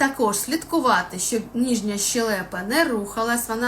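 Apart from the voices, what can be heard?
None of the usual background noises is heard.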